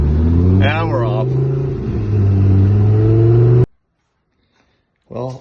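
A Bentley pulls away in snow with a loud, rising engine rev, a voice briefly heard over it; then the sound cuts to near silence before another short burst.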